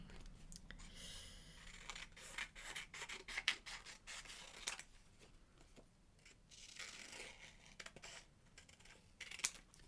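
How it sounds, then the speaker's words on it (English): Scissors snip through paper photos in quick, irregular bursts, crisp and close against quiet rustling, with no voices. "I am just cutting out all the photos at this point"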